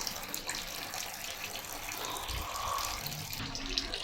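Water runs from a tap while a machine is rinsed, a continuous splashing, gurgling flow at close range with shifting intensity and no talking.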